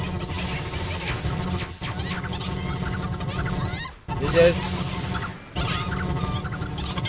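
Chicken clucking in a video game, set among dense, steady game noise that runs nearly throughout, with two brief drops near the four and five-and-a-half second marks.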